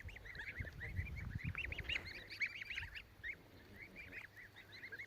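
Mammoth breed goslings of different ages honk and chirp in a steady, overlapping chorus, close by and fairly loud throughout, with low rustling and movement underneath.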